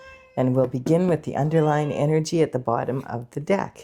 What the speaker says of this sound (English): That's my cat Stella you're hearing.